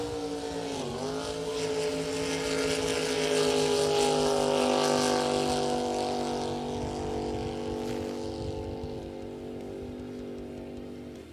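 A drag racing boat roars down the water on a qualifying run at a Marble Falls lake event, its high engine whine rising then holding steady and slowly fading as it speeds away.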